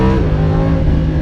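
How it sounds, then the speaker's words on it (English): A Lamborghini Huracan's V10 engine pulling hard in first gear on twisty roads, a loud, close, steady harmonic roar heard from inside the car. "That's V10 soundtrack."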